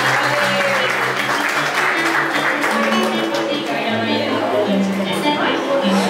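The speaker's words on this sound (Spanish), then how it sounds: "Ahí está. Un aplauso." Guests applaud at a quinceañera party, a dense and sustained round of clapping that fills the room, with music and crowd voices running underneath.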